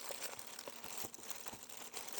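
A plastic bag crinkles and rustles close by during the unboxing of an LGB HSB Mallet model locomotive, with quick, dense crackling bursts throughout.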